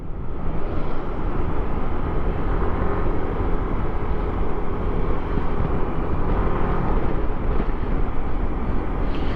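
Continuous motorcycle engine and road roar while riding at speed with heavy wind rumble, loud and steady throughout, no voices.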